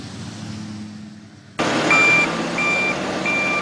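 Trucks and snow plows loading up ahead of a snowstorm in Pittsburgh; quiet engine rumble gives way to loud idling with repeated high reversing beeps pulsing in a regular rhythm.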